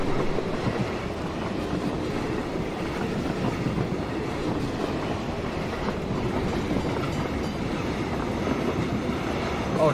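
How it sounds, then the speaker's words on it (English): A train rolls past in PUBG: Battlegrounds, a steady loud rumble with rail clatter holding across the whole stretch without letup. "Oh shit, my other train is here."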